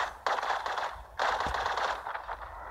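Video game gunfire rattles in two quick automatic bursts, close and sharp, separated by a brief pause, with no speech.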